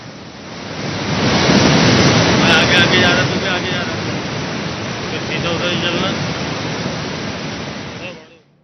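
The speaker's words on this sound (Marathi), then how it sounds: "हतनूर धरणातून मोठ्या प्रमाणात पाण्याचा विसर्ग सुरू आहे" Heavy water discharge roars from the eight open gates of the Hatnur dam in Jalgaon during heavy rain, a loud, steady broadband rush that swells slightly and continues without a break.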